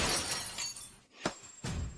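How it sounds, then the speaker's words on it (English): A blue and white porcelain vase from a mid-Qing folk kiln smashes, giving a bright shattering crash followed by a second sharp burst of breaking pieces, close and loud. "That blue and white porcelain vase you smashed is a fine piece from a mid-Qing folk kiln."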